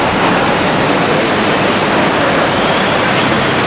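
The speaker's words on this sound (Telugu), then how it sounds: "మెట్రో పోతుంది." A Dubai metro train passes near an airport station, a loud, close, continuous roar of wheels and rail noise with no voices over it.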